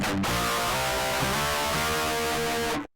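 Harsh, fizzy electric guitar through a Boss DS-1 distortion pedal with no cabinet impulse response, ringing as a dense sustained chord for about three seconds, loud and close with no talking.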